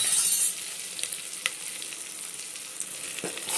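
Onions sauté in a pan with a soft, continuous sizzle that is loudest at the start and then settles. A few faint utensil taps and stirring clicks sound close by, and no voices are heard.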